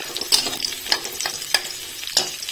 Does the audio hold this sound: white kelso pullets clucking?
no